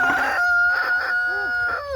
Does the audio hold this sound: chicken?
yes